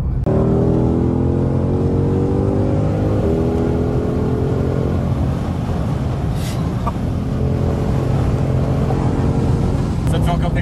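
A Ford Mustang Shelby GT500 accelerating hard, its engine roar climbing steadily in pitch through the gears, loud and continuous from inside the car, with people talking over it.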